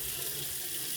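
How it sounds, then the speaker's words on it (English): A kitchen sink tap runs steadily at a slow, lukewarm flow over a pressure cooker, a close, continuous hiss of pouring water with no voices. "I'm gonna put my water on slow."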